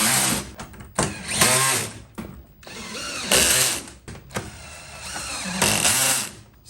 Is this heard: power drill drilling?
yes